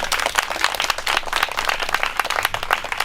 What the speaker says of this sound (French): il faut applaudir vraiment.